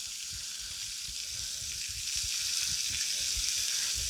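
Mango BBQ shrimp sizzle steadily on a grill, a dense continuous hiss with soft irregular crackles and pops underneath, close and moderately loud with no talking.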